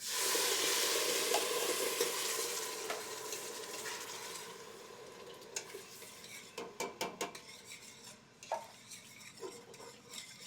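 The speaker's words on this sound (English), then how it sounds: "Once we've got a good saute on those ingredients, then we're going to add our coconut milk" Coconut milk poured into sautéed ingredients in a hot pan, a loud hissing sizzle that fades into softer bubbling, then a run of clinking utensil stirs and taps against the pan.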